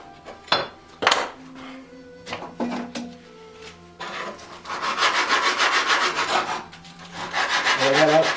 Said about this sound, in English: probably sand this down